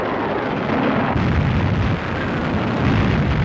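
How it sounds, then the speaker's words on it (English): A massed artillery barrage opens the Battle of El Alamein at night, nearly a thousand guns firing together into a dense, continuous rumbling roar without distinct gaps, loud and unbroken. "8th Army's artillery announced the beginning of the Battle of El Alamein"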